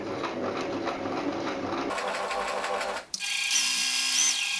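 A sewing machine stitches a fabric face mask, its needle running in a steady fast whirring rhythm close by, then the tone shifts abruptly to a higher, smoother motor hum after a brief pause, with no talking.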